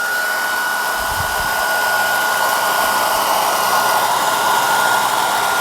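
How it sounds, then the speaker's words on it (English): A heat gun blows hot air onto solder connectors with a steady, loud, continuous whooshing hiss and a constant whine, close up with no talk. "And we got our heat gun ready."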